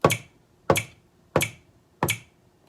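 The Attack Snap 02 sample from the FL Studio FPC drum kit repeats four times at an even, moderate tempo, each a loud, crisp finger snap with a short decay and silence between hits.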